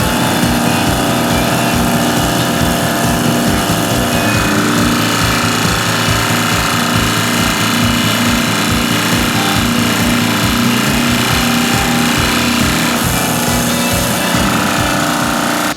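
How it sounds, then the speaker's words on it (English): A press forcing new wheel studs into a hub in a mechanics shop, a loud continuous rapid mechanical hammering and motor roar that runs without pause for the whole stretch, close and with no speech. "you can tell the press doesn't really slow down when it hits these things"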